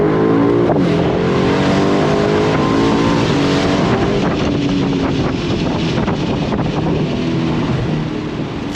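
A 2024 Aston Martin DB12 Volante convertible accelerates hard on throttle, its engine note climbing through rising pitch with wind buffeting the open cabin, loud and close, then easing slightly toward the end.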